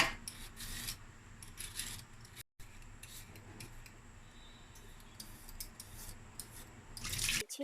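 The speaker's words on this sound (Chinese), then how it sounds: "把山药削皮" Chinese yam being peeled with a vegetable peeler, a run of quiet repeated scraping and rasping strokes with short pauses between them, close up and alone.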